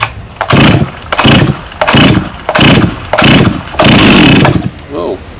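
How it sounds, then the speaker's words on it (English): A late-1980s Stihl 064 chainsaw on full choke with the chain brake on, being pull-started: a rapid series of loud rhythmic recoil pulls with rough bursts of engine noise, ending in a short fade. "I'm just going to pull and see what happens."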